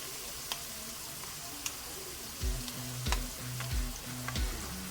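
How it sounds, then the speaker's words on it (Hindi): Garlic-ginger paste sizzles steadily in a pan while a spoon scrapes and stirs it in repeated strokes, with a few faint ticks of metal against the pan, near and moderately loud, without speech. "लहसुन अदरक का पेस्ट जो डाला है, चम्मच हम बराबर हिलाते जाएंगे।"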